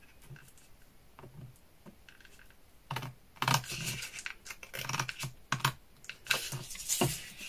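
Scissors cut through a sheet of paper for a scrapbooking suitcase box, giving a run of crisp, irregular close-up snips and crunches that grow louder and denser as the cutting goes on.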